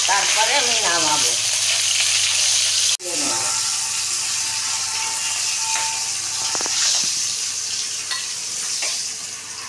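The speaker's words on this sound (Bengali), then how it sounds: "মাথাটা সুন্দর ভাজা হলে তারপরে আমি নামাবো" A fish head frying in hot oil gives a dense, loud, continuous sizzle close by, with a sharp clatter near the three-second mark and light stirring scrapes after it.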